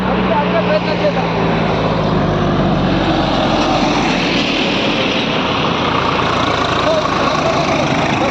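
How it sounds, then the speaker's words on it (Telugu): Two sand-laden tractors drive past on a roadside near a border area. Their diesel engines make a loud, continuous rumbling drone close to the microphone. Wind or road noise fills the rest of the sound. "ఈ సరిహద్దు నుంచి మరి ట్రాక్టర్లు మనకు లైవ్గా మరి 2 ఇసుక ట్రాక్టర్లు వెళ్తున్నాయి."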